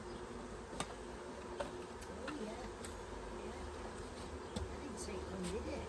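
A swarm of about ten thousand honey bees inside a collection box gives off a steady, low, continuous hum, with faint ticks and a voice speaking over it.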